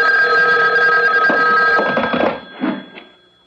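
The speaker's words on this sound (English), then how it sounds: "The phone. At this hour?" An old-style telephone bell rings loud and close in a radio drama's night scene, a sustained metallic ring that cuts off, followed by a brief handling clatter as it stops.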